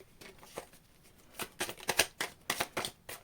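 Tarot cards are shuffled close up in a quick run of crisp riffling flutters, building from soft taps to a steady rhythmic burst.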